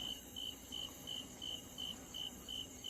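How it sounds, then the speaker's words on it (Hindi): Crickets chirp in a steady repeating pulse at night, about three bursts per second, moderately close against a quiet, still background with no voices. "अब चारों तरफ सन्नाटा है। रह रहकर झिंगुर और कहीं से मेंढकों के टर्राने की आवाजें आ"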